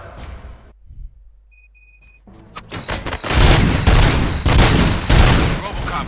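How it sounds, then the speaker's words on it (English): Robots open fire in the RoboCop: Rogue City game, a burst of heavy rapid gunfire that erupts after a quiet stretch with electronic beeps, then continues loud and sustained amid game sounds. "Gunshots?"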